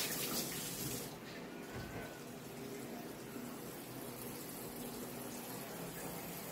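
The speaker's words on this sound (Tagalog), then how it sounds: "Ayan, diretso na yung tubig." Water runs steadily from a tap during a plumbing fix, a continuous close hiss and gush that stays even throughout, with a brief knock near the start.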